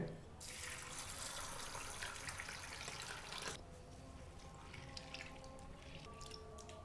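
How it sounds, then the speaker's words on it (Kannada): Running water pours from a tap as chana dal and moong dal are rinsed, a steady rush that cuts off partway, followed by quieter sloshing and drips. "ಇವೆರಡೂ ಬೇಳೆನೂ ಚೆನ್ನಾಗಿ ತೊಳ್ಕೊಬೇಕಾಗತ್ತೆ"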